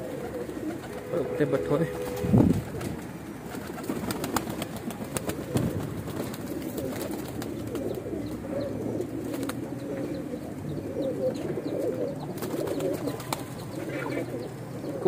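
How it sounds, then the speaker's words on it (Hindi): Weshi, Kansani and Sialkoti pigeons coo softly in a loft in repeated low, throaty calls, with occasional wing flaps, while someone talks over them. "माशाल्लाह कबूतर वेखो"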